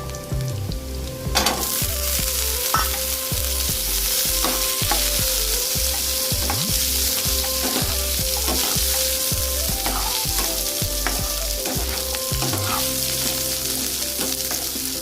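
Sliced onions frying with a bay leaf in a pan over low heat, giving a steady, loud sizzle throughout with periodic scraping and stirring knocks from a spatula and no talk.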